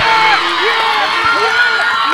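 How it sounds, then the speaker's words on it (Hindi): Spectators around a cricket ground in a Kanakia Queens versus Bindhast Voyagers match cheer and whoop loudly in a dense, continuous roar, with shrill shouts rising above the crowd. "मैदान के चारों ओर से तालियां बज रही है"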